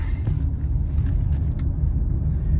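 A car's interior fills with a steady low road rumble and engine drone while driving, continuous and close with no talking.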